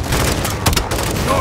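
A launcher round in Modern Warfare 2 slams into its target with one sharp, heavy blast under a dense roar of battle gunfire, loud and close.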